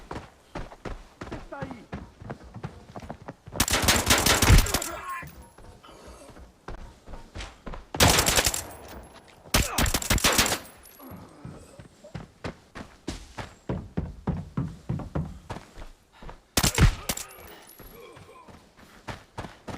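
Gunfire in the shooter game Arena Breakout: a few separate bursts of loud, sharp shots, spaced apart, with someone talking between them.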